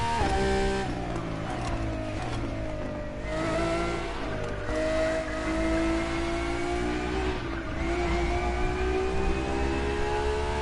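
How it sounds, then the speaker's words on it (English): A car engine in The Crew Motorfest revs and shifts pitch, rising and dipping through gear changes in a synthetic, game-like drone, loud and continuous with no talking. "this has a crazy sounding engine"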